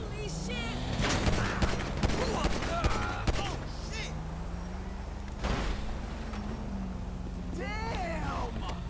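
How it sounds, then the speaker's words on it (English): Rapid gunfire from a suspect in a Grand Theft Auto police roleplay game crackles in a quick cluster early on, followed by a single later shot, while a voice speaks over the game sounds. "We got this guy over here who's just shooting at us."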